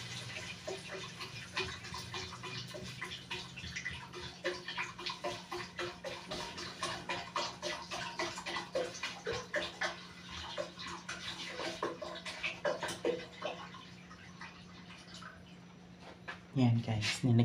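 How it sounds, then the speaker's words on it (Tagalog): Water poured into a cooking pot for a Filipino almondigas soup with misua noodles, a steady splashing trickle at moderate distance that runs most of the time, then thins out, with a louder clank near the end. "Yan guys, nilagyan na natin ang tubig."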